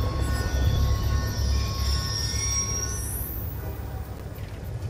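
A train rumbles steadily past in Call of Duty Black Ops 2, low heavy rolling noise throughout with wheel squeal and a high rising screech near the end, loud and close, no talk.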